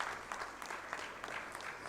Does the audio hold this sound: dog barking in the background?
no